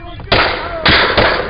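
Gunfire during a tense armed confrontation, two or three loud, sharp cracks in quick succession over a noisy background, with shouting voices around them.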